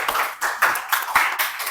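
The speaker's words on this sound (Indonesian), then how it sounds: "tepuk tangan untuk Gladys ya." Hands clapping in a short burst in a classroom lesson, several uneven claps over a couple of seconds, fairly close, with no talking.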